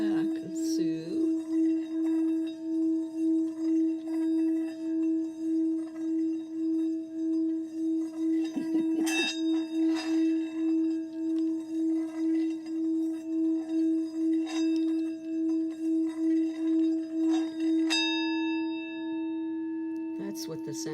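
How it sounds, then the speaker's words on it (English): A Himalayan singing bowl rings with a sustained, pure tone that pulses and shimmers steadily, struck again a few times with brighter attacks, then fading near the end; no talk over it. "This is a sweet Himalayan singing bowl."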